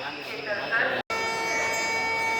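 Steady rumble and hum of a passenger train in motion between Junagadh and Veraval, with a brief cut near the middle; voices in the carriage are faintly audible.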